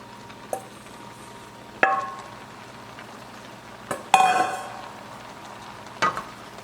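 Boxed stuffing is tossed and mixed in a pan, giving a few sharp utensil scrapes and clanks spaced out over a soft background sizzle.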